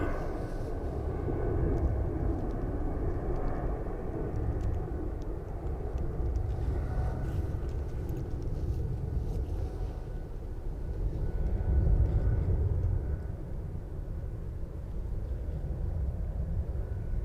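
A KLM airliner taking off from Zurich for Amsterdam, a steady, heavy jet engine roar that holds loud and broad throughout with a slight swell near the end.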